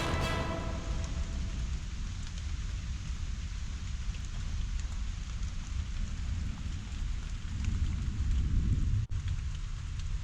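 Heavy driving rain from a mountain thunderstorm at Tinker Cliffs, Virginia, beats steadily on surfaces, a dense constant hiss with low rumbling wind beneath and no voices.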